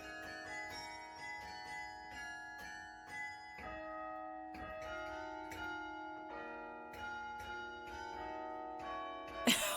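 Bell tower bells in the Bug Fables video game ring out a melodic song, struck notes following one another in a steady tune with long, ringing overtones, clear and moderately loud without talk.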